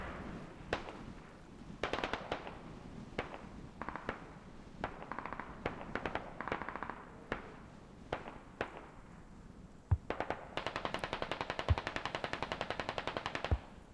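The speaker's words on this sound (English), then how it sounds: "More mortars landing close to INS position near the bridge" Mortar rounds landing near a bridge in the military shooter game Squad, heard as distant, fairly faint repeated booms and crackling bursts with rapid rattling fire near the end, and no talking.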